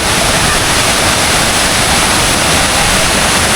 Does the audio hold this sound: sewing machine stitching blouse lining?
no